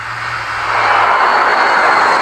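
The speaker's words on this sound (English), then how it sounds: "Thomas watched the Duke's airplane fly away." The Duke's airplane flying away, a steady broadband engine roar that swells slightly louder and holds, with a low hum fading out early, no talk.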